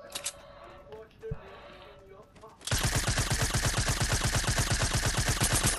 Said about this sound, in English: I'm just shooting the guys on the mountain up there.